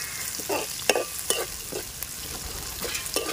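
Chopped onions and green chillies fry in oil, with a steady sizzle broken by repeated scraping stirs from a spoon in the pan, close up and with no talking.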